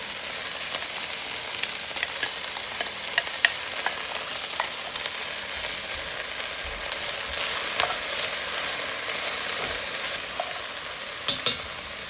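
Cabbage dropped into a frying pan with corned beef brisket, carrots and black pepper, setting off a steady sizzle and fry with scattered stirring scrapes and crackles, close and continuous, no talking.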